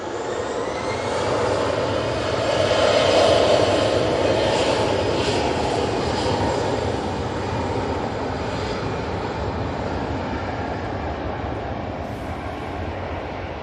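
Aircraft climb out from Manchester Airport during Storm Amy, a loud sustained jet roar that swells early and then settles into a steady rumble with a faint whine, mixed with wind noise and no voices.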